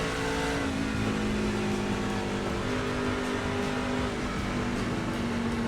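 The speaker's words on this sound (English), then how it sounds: "This is Daytona 2008 with the 2008 trucks." 2008 NASCAR pickup trucks race around Daytona in iRacing, engines droning loudly and continuously at a steady high pitch, with several cars packed close together.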